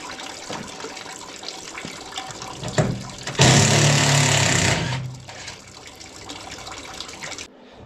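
Fluid drains and splashes from a Massey Ferguson 2675 tractor during a water pump replacement, a steady watery pour that swells loudly for a couple of seconds midway and then settles back to a constant trickle, with no talking.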